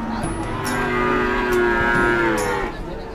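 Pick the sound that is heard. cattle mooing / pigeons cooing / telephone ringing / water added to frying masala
cattle mooing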